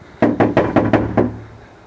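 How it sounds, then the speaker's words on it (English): Five firm knocks land on a house door in an even rhythm, close and loud, each ringing briefly before quiet returns. "maybe I'll knock. Maybe you'll hear that."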